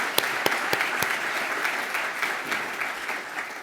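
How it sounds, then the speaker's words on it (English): An audience gives a round of applause at a live event, a dense burst of clapping with a few sharp claps at the start, steady and then gradually easing off. "So let's give them all a round of applause."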